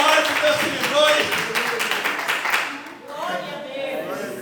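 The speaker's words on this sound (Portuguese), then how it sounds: "Glorifica a Deus com as palmas." A church congregation claps their hands together in a rhythmic burst that fades midway and then returns more softly, under a preacher's loud voice.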